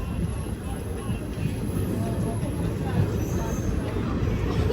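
An Intercity Superfast Express train pulls out of Naupada Junction with a steady, loud rumble from inside the carriage. Faint wheel and track noise runs underneath, and nobody speaks.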